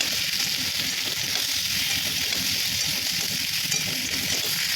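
Boiled soybean chunks fry in a pan with ginger and cumin paste, giving off a loud, steady hiss and sizzle throughout with faint stirring beneath it.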